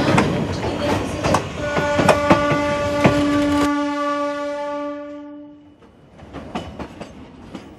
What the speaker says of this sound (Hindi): दूर से आती इस रेलगाड़ी को देखिए, करीब आते आते शोर का सैलाब ले आती है, दूर जाते जाते सैलाब समेट ले जाती है।